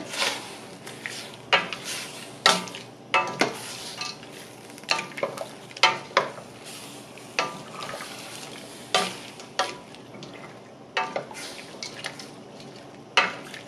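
Cauliflower being stirred into a vinegar and sugar brine in a pot for water bath canning pickles: irregular clinks and scrapes of a utensil against the pot over a soft bubbling background, without talk.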